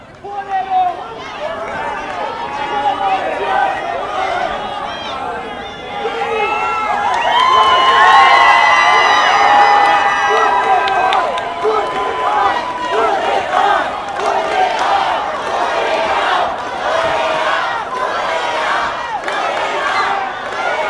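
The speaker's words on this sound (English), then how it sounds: "This crowd chanting, "Put it on,"" A crowd at an intergender independent wrestling show chants and cheers loudly and rhythmically, swelling midway and filling the arena, while a commentator talks over the noise.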